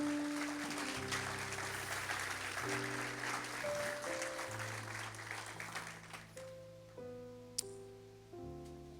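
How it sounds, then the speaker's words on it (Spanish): Congregation applause during a church sermon, a crowd clapping over sustained keyboard chords that fades away, leaving the music playing alone with a sharp knock late on. "Denle un aplauso a Dios en esta mañana"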